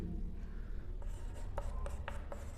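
Pen writing by hand on a page during a class 9 geometry lesson, a series of short scratchy strokes that grow clearer and more rhythmic in the second half, close and quiet with no talking.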